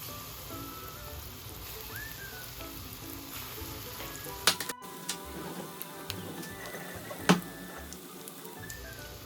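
Small croquettes frying in hot oil give off a steady, close sizzle that runs throughout, with a few sharp pops and crackles breaking through near the middle.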